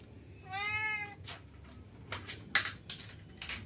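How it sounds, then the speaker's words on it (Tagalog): A restless pet cat gives one clear, drawn-out meow near the start, followed by quieter clattering and rustling nearby. "Ngiyaw ng ngiyaw."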